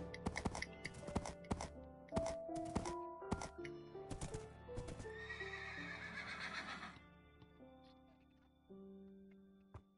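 Minecraft horse sounds from the video game: a quick series of clip-clop hoof steps with whinnies and neighs over a melodic in-game note pattern, then fading to sparse tones.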